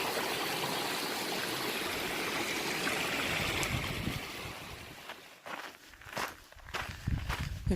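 A strongly flowing creek on the Whitewater canyon loop, a steady broad rush of water that fades as crunching footsteps take over and walk along nearby.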